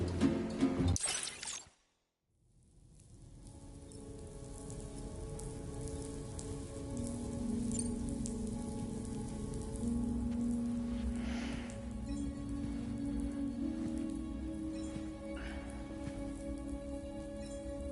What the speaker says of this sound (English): Those raindrops are falling.